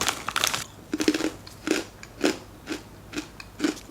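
Close, crisp crunching of a dry, crispy red pepper diet snack, about seven bites and chews in an uneven rhythm with no talking.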